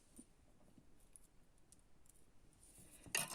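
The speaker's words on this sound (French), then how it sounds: "je vois que du scotch qui dépasse. Je vais le couper." Near silence with faint small ticks, then a quick, crisp snip of scissors cutting tape right at the end.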